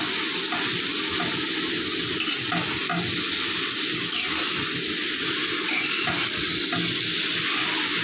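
Rice is stir-fried with soy sauce in a pan: a constant loud sizzle with a repeated scrape of the utensil tossing the grains, and no talk.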